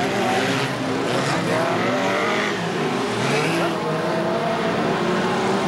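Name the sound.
BriSCA Formula 1 stock cars racing at Boston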